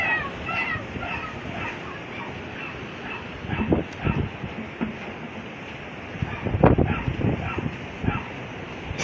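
Strong typhoon wind from Typhoon Kammuri (Tisoy) in Northern Samar, Philippines, roars and gusts under a woman's speech, with rushing bursts buffeting the microphone.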